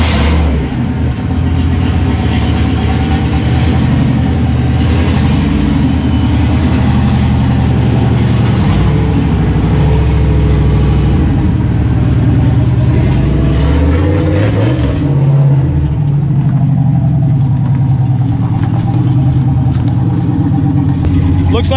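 A Foxbody Mustang engine runs loud and close with a constant low rumble as the car drives over pavement, its pitch shifting midway; a voice can be heard speaking over it.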